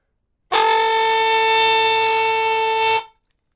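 A homemade horn of coiled tubing blown through a trumpet-style mouthpiece gives one loud, steady, buzzy blast of about two and a half seconds, cutting off cleanly with nothing else around it.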